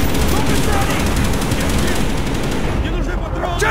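Rapid automatic gunfire rattles loud and close in a Call of Duty Black Ops firefight, a dense unbroken stream of shots with shouted voices faintly mixed in.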